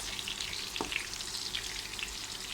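Beef frankfurter sausages fry in a pan with a dense, close, crackling sizzle that runs evenly throughout, with one soft knock partway through.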